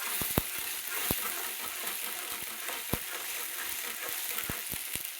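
Masala spices frying in hot oil in a home kitchen, a soft continuous sizzle broken by sharp scattered pops and stirring clicks, fairly faint and close, with no talking.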